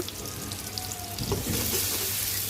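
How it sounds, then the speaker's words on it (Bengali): Onions frying in oil in a pan for chicken curry, a steady soft sizzle that swells slightly toward the end, close by with no talk. "পেঁয়াজটা ভেজে নিব"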